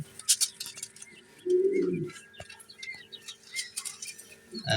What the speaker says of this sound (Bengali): জায়ান্ট কটনিস কয়েল পাখি।